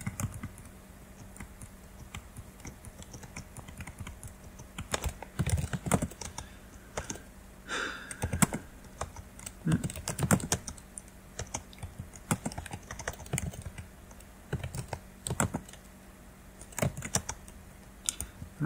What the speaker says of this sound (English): I'm typing a little fast